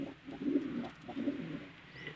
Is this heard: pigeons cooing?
yes